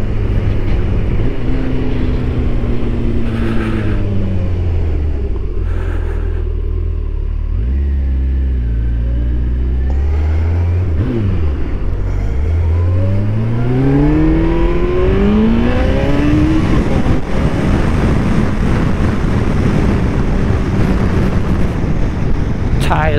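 A Kawasaki ZX14R motorcycle accelerates hard while sliding through a turn on a chilly day, its engine rising and falling in pitch with loud revving sweeps over steady wind rumble, close and continuous.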